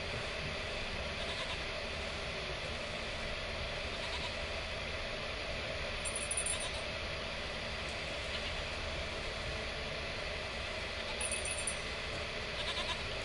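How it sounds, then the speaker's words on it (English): A goat bleats in the video game The Witcher 3 over a constant, dense ambient bed, with a few faint bleats cutting through the steady background. "I can hear the goat."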